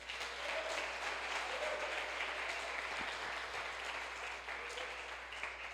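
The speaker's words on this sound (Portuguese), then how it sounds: "Você pode aplaudir o Senhor?" A church congregation applauding during a sermon, a long, steady roll of many hands clapping in a reverberant hall, soft and distant with a low hum beneath.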